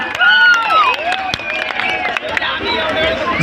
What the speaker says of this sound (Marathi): जोरदार टाळ्या झाल्या पाहिजे एकदा विजय सावंतसाठी